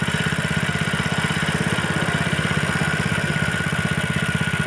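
A Honda GX160 small single-cylinder engine idles at low speed, a steady, close chugging with a fast even beat and a rattly mechanical hiss, with no talking.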